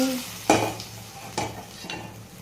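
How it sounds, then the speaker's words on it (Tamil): Cumin, cinnamon, chilli, curry leaves and onion are tempered in hot oil for dal, with a few sharp scraping stirs and bursts of sizzle at close range over a quiet hiss. "தாளிப்புக்கு தேவையான சீரகம், பட்டை மிளகாய், கருவேப்பிலை, வெங்காயம் எல்லாத்தையும் போட்டு தாளித்து பருப்பானம் ரெடி."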